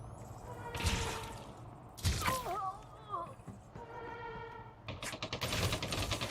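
Shotgun blasts ring out in a sci-fi firefight in Elite Dangerous Odyssey, coming as a few sharp, loud bursts a couple of seconds apart amid whooshing and whistling game effects, with a voice speaking between the shots.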